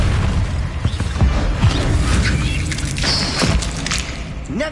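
A Confringo spell blast in the video game Hogwarts Legacy sounds as a loud booming impact, followed by rumbling thuds and crackling bursts amid ongoing combat effects.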